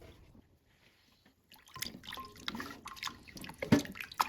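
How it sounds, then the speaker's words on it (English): Water splashes and drips in a sink after a quiet start as pork ribs are rinsed with cold water, with irregular trickling and light clatter close by. "then rinse the ribs once more with cold water"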